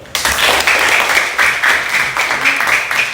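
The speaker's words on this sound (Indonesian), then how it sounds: "Kita tetap berikan semangat dengan memberikan tepuk tangan." A class of students in a classroom claps together in a brisk, rhythmic pattern of repeated bursts, loud and close, keeping an even beat for a few seconds.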